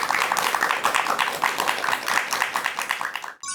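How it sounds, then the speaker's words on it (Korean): A lecture audience breaks into steady, dense clapping to welcome a talk on laughter and health, continuing evenly for several seconds before cutting off abruptly at the end. "큰 박수 부탁드립니다."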